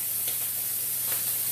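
Sausage sizzles and crackles in a frying pan, a steady close hiss with a few soft pops, heard on its own without any talking.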